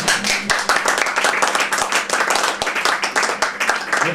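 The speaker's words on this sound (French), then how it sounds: "Khadija, vous pouvez l'applaudir" An audience claps steadily for a performer named Khadija at a festive stage show, a dense, loud patter of many hands continuing without pause.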